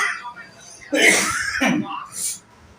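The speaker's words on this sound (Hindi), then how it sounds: "खांसी आ रही है" A couple of harsh, close coughs mixed with throat clearing and a voice.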